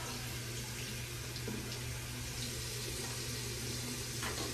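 A sink tap runs steadily as disposable and double-edge razors are rinsed beneath it, a constant close water flow with faint clinks and no talk.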